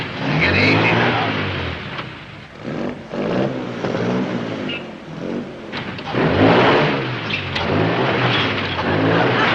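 A car engine revs and idles while the vehicle edges back and forth in a tight parking spot on a 1950s comedy television show, loud and close, with voices talking over the rumble.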